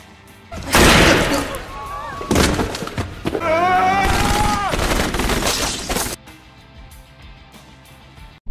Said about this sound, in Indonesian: adegan tembak-menembak pun tak terhindarkan hingga membuat Frankie terkena luka tembak di perutnya